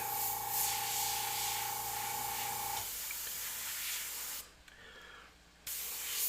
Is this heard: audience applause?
no